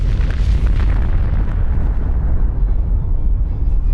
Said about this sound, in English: I want to make sure I'm looking the right way for the explosion.